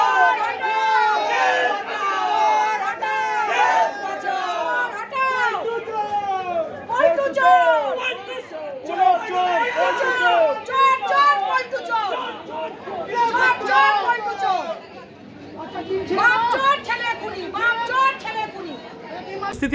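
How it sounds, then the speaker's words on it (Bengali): A dense crowd outside a court shouts and chants slogans calling a man a thief, many voices overlapping in loud, rising and falling waves with brief dips before swelling again. "কেউ চোর চোর স্লোগান দেন, আবার কেউ ছেলে খুনি বাপ চোর বলেও স্লোগান তোলেন।"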